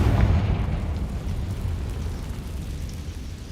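A Confringo fire spell bursting in Hogwarts Legacy gameplay gives one heavy, close boom at the start, then a rumbling tail that fades slowly over a few seconds.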